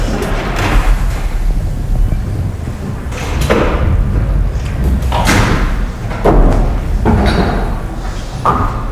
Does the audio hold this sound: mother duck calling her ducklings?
no